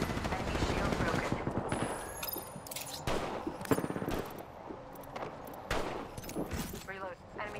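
Rapid automatic gunfire fills a video game shooter firefight: dense bursts of close shots with sharp cracks, under game voice callouts and brief talk.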